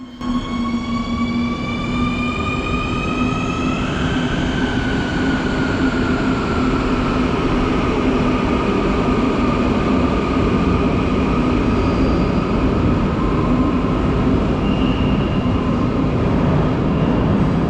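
Quito Metro subway train pulling into Quitumbe station, a loud steady rumble of wheels and motors with a whining tone that drops in pitch as it slows, continuous and close.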